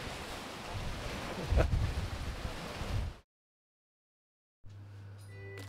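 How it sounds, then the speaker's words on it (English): Blustery seaside wind rushes steadily at moderate level beside the water, a broad, hissing roar with a brief louder gust, then cuts to silence before a quieter passage with a low steady hum. "But it's a bit windy."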